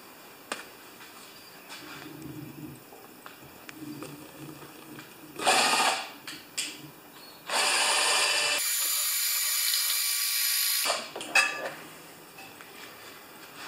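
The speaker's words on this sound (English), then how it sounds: "I am going to drill that a bit more down." Power drill boring into a part of a 6 HP Craftsman lawn mower that will not start, heard as a few short whirring bursts followed by one long steady run of several seconds, close and loud between quieter handling clatter.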